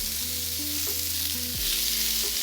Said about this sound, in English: we're gonna go ahead and start cooking our onions and peppers. Want to hear a nice sizzle here.